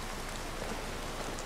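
Steady rain falls in the video game Skyrim Special Edition, an even wash of patter with no break across the brief moment and no voices.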